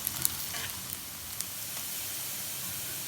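Onions sizzle and fry in a pan while being cooked until lightly browned, a steady soft hiss with a few small crackles and pops near the start, fairly quiet and alone with no talking.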